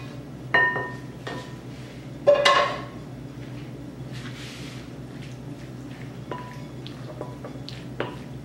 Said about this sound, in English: Now I'll take my hamburger, fold it into my eggs and potatoes.